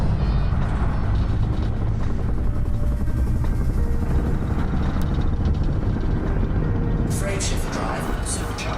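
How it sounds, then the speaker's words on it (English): Frameshift drive charging aboard a ship in Elite: Dangerous, a loud, dense, continuous rumbling roar that holds steady and brightens with a rising whoosh near the end. "Frameshift drive supercharged. Frameshift drive charging."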